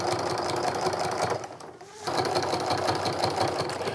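Sewing machine stitching a Christmas stocking made from charm pack fabric, a steady fast whirring run that pauses briefly near the middle and then resumes, close and continuous.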